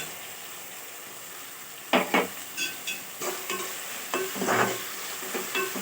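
Hot oil sizzles steadily as onions go into a tempering with curry leaves, with a few stirring scrapes and clinks of a utensil against the pot.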